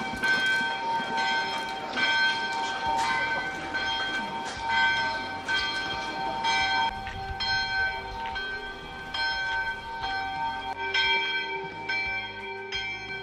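Church bells at the Sanctuary of Rocamadour ring continuously, overlapping peals with long resonant tones, steady and moderately distant.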